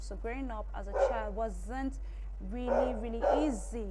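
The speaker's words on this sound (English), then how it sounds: "Sorry about my dog." A dog barks and yips repeatedly in short, close bursts while someone talks over it, with a steady low hum underneath.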